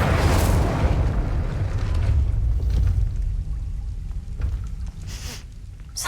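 An Incendio fire spell cast in Hogwarts Legacy, a loud booming blast that erupts at once and then rolls off into a rumbling, crackling burn, with a few fainter bursts near the end.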